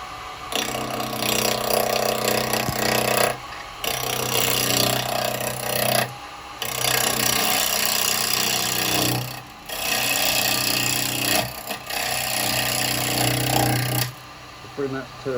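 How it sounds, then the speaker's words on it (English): A wood lathe turns a Japanese birdhouse while a square carbide chisel cuts into it, giving a loud, steady scraping drone broken by several brief pauses. A person talks at moments. "for this, I'm going to be using my square carbide chisel, okay? So I'm going to start that up"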